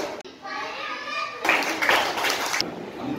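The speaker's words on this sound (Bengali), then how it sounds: "হাততালি" A group of schoolchildren at a workshop breaks into a burst of clapping that lasts about a second, loud and close, after a voice speaks and with children's voices around it.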